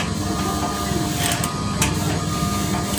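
A sewing machine stitches a wave curtain with a continuous close mechanical drone and low rhythmic chatter, steady throughout with no pauses.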